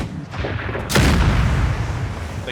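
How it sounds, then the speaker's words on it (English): Cannons fire in Napoleon: Total War with the Era Mod, a heavy boom rolling into sustained rumbling battle noise with crackling musketry, loud and dense, no talking. "When the cannons are roaring"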